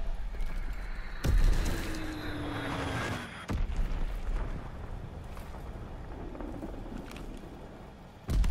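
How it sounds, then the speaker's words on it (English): Fritz X guided bomb detonating in a WW2 shooter, a sharp heavy blast followed by a rumbling tail, then another crack and later a third impact amid distant battlefield noise, no speech. "Dropping Fritz X-Bomb."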